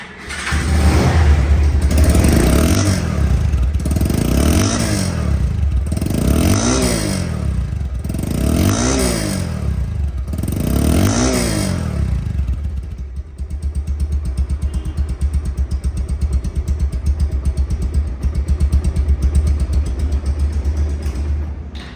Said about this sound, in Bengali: এই বাইকটি সাউন্ড কোয়ালিটি শুনুন